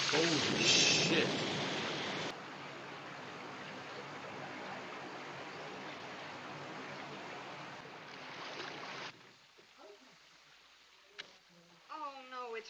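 Water rushing and splashing as a flood spreads across a basement from a burst water heater in a 1950s film, a loud continuous wash that fades after a few seconds, followed by quieter movement and voices.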